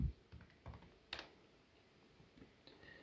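A computer keyboard is tapped in a few soft, scattered keystrokes while a search is typed into Google, faint and close in a quiet room.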